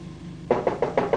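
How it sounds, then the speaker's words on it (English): Five sharp knocks rap on a door, evenly spaced and fairly close, standing alone against a quiet background. "Oh, glory be, it's late for knocking."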